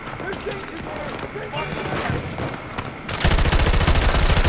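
Rapid gunfire in the Battlefield 2042 video game, steady bursts of automatic shots that swell into a louder, denser volley near the end, with voices talking over the shooting.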